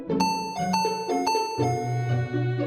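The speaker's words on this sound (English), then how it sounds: "a loud doorbell sound rang throughout my house" A doorbell chimes a clear ding-dong melody several times, ringing loud and near with a lingering tone.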